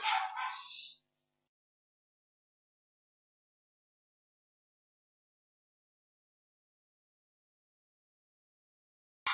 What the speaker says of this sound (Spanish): se volvió loco el perro